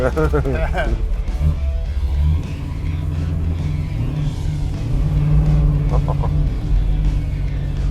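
A 1974 Pontiac Trans Am Super Duty engine rumbles low and steady from inside the cabin while riding, the deep drone rising slightly as it revs, with people talking over it.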